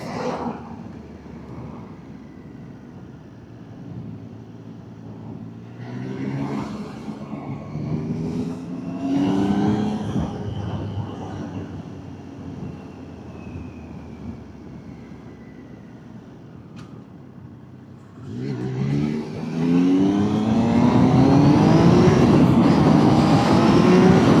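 A 2026 Triumph Trident 800 motorcycle on a test ride revs up through several rising engine pulls, with gear-change dips between them, then surges loudly into a sustained hard acceleration near the end. Wind rush runs underneath.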